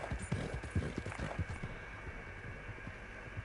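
Horse hooves clop in a quick galloping rhythm during a hunting-sport ride in Austria, fairly faint and fading into a steady background hum.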